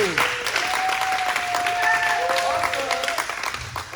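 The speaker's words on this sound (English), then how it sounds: "Give a round of applause for yourself." Sustained applause and cheering from an audience at a ballroom-scene townhall event, steady and fairly loud, with voices mixed in.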